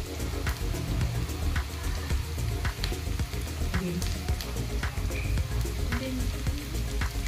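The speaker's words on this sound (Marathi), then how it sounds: "गाजर पण थोडंसं फ्राय करून घेऊया" Carrots frying in a pan with oil, a dense, steady crackling sizzle with scattered sharp pops, close and continuous throughout.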